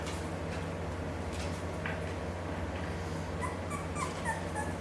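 Three-week-old AussieDoodle puppies giving a few faint, high whimpers and squeaks late on, over a steady low background hum.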